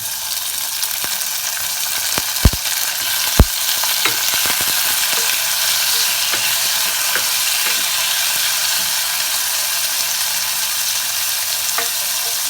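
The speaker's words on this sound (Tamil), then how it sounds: "பச்சை மிளகாயும் நல்லா வதங்கியிருக்கு இந்த ஸ்டேஜில் தக்காளி உள்ளே போடுறோம்" Green chillies sauté in oil for spicy tomato soup, giving a steady, close hiss of sizzling throughout, punctuated by a few sharp clicks of a stirring spoon early on.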